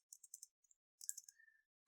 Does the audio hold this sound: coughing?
no